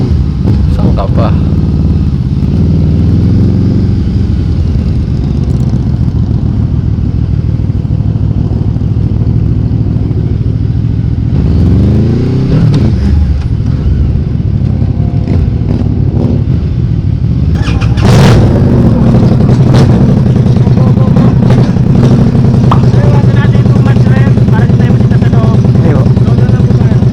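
A Bristol Maxie400 motorcycle on a test ride, its engine idling and revving repeatedly, close and loud, with rising pitch sweeps during accelerations.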